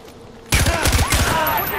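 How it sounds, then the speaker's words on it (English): Sudden burst of rapid gunfire in the Far Cry 4 video game, loud, dense shots rattling on continuously after a quiet moment. "Someone's shooting."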